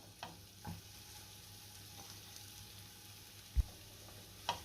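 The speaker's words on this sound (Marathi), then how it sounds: "आता ह्याच कढईमध्ये मी एक चमचाभर तूप घातलं आहे आणि आता आपल्याला खजूर चांगली परतून घ्यायची आहे" Dates fry in ghee in a wok, giving a faint, steady sizzle with a few soft clicks from a spoon.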